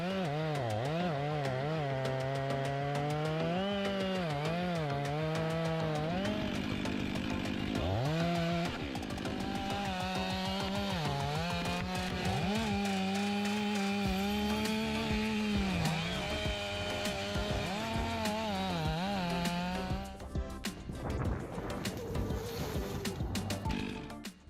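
A big MIS 500E chainsaw machine cuts and fells large trees, its engine roaring loudly and continuously with repeated rising and falling revs throughout.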